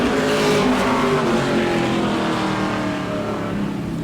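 Super late model race car with a new engine running at speed during qualifying at Auburndale, a loud sustained engine roar close by with steady pitch and no talk.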